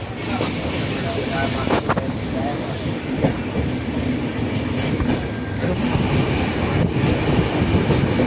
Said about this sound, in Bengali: আমাদের ট্রেন ছেড়ে দিল আমাদের ডালখোলা স্টেশন থেকে